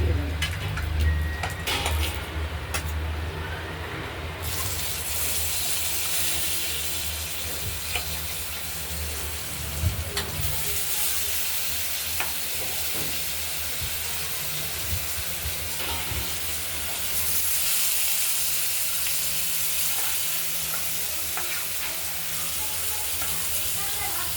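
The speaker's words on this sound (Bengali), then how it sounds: "জিরে আর কালো জিরে সামান্য দিয়ে হালকা করে ভেজে দেবো" Cumin and black cumin seeds fry in hot oil for a spicy tilapia curry, with a dense, continuous sizzle close by. Light stirring and a few sharp crackles sit on top.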